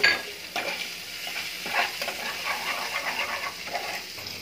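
Shredded chicken goes into garlic ginger paste already frying in a pan, producing a steady, moderately loud sizzle with scraping and stirring noises over it and no voices.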